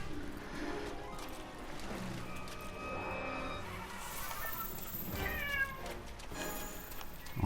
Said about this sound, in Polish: kot znowu miauczy